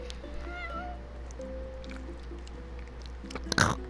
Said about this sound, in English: One spoiled cat.